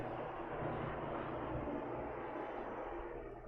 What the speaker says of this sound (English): I think my Uber helicopter's arriving